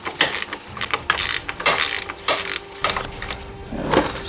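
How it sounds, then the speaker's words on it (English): A ratchet works a 17mm nut loose on the rear suspension of a Suzuki RF 900 motorcycle: loud, close bursts of rapid clicking, repeated in short rhythmic strokes with brief pauses between. "now I'm going to go ahead and remove that nut here at the bottom"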